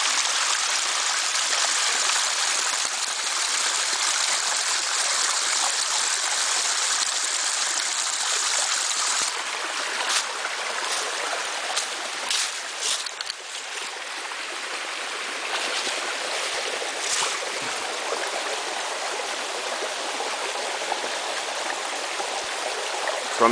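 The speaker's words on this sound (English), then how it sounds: "This is also a beautiful, beautiful part of the creek here." Creek water flowing steadily over clean rocks in a stream, a continuous close rushing wash with no pause for the full length, growing slightly more uneven and splashy partway through.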